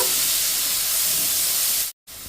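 Boiled mushrooms frying in a pan while being stirred, a steady loud hiss of sizzling oil that runs without a break and cuts off abruptly near the end.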